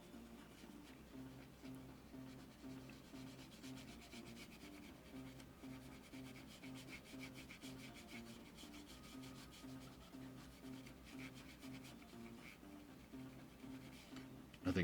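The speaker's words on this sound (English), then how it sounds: "you guys don't have to see me scrubbing away on another cartridge" Steady rubbing and scrubbing on a 1990 Super Nintendo game cartridge as it is cleaned, a continuous close scraping texture with a low tonal hum underneath, running unbroken throughout.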